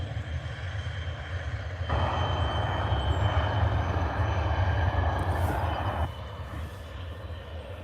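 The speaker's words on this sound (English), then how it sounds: "We have got the Ryanair from Dublin on arrivals, so I'll get that in a moment." A Ryanair jet arriving from Dublin at Liverpool Airport makes a broad, steady roar that swells for about four seconds in the middle and then falls back to a quieter background rumble.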